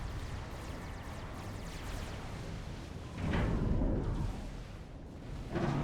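Artillery fire in the strategy game Supreme Commander: Forged Alliance comes as a low, rumbling barrage under continuous battle noise, with two heavier muffled booms swelling partway through and near the end.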